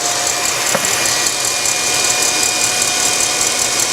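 Electric mixer whipping egg whites with sugar at top speed, a steady, dense whirring drone with constant beater hum, close and unbroken throughout.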